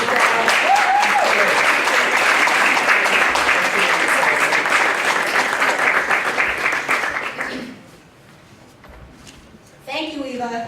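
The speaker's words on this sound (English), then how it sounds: "Please give them a round of applause." Audience applause for the staff of a college and career counseling center, dense and steady clapping from a crowd for about seven seconds before fading out, then a voice starts speaking.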